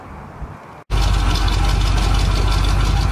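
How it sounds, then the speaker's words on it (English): Engine of a 1976 GMC Sprint starts up after a brief silence and settles into a loud, steady idle, running continuously and close by with a rough, knocking undertone. "Well, she's running on her own fuel tank."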